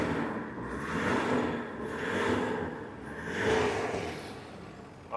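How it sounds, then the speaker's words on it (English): A 1996 Toyota Land Cruiser Prado TZ turbo diesel engine with about 148,000 miles revs up and settles three times in a steady rhythm, a rough, throaty drone rising and falling without any talking. "Okay, I'm gonna do some engine revs."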